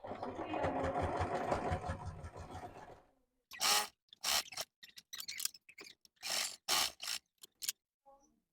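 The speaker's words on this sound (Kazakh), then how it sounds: "шет жағынан барлығын машинкамен тігіп шығамыз" A sewing machine stitches the edges of a small fabric pouch, first in a long continuous whir, then in short separate bursts with pauses between, close and fairly quiet.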